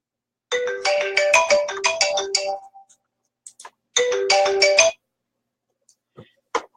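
A phone's electronic ringtone plays a bright, melodic pattern twice, loud and close, with a short gap between rings.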